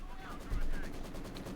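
Machine gun fire in Company of Heroes 2, a brief rapid burst of rattling shots in a real-time strategy battle, heard under a caster's voice.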